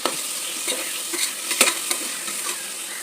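Tomatoes fry in oil for rice with a close, constant sizzle, punctuated by several scraping stirs of a utensil against the pan.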